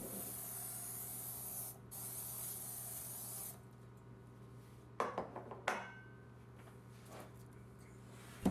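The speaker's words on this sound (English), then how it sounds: "I'll start by spraying the pan with no-stick spray." Non-stick cooking spray hisses onto a 9-inch round baking pan in a quiet kitchen as one long spray that stops abruptly, followed by a few light metallic taps and clinks.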